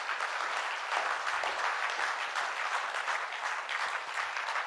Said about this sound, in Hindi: सो एक बार जोरदार तालियां होनी चाहिए टॉप टाइम के लिए।